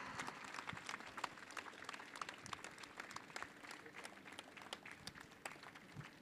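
Audience applause at a felicitation ceremony honouring Brahmanandam, a dense, steady patter of many hands that continues unbroken and sounds somewhat distant and subdued.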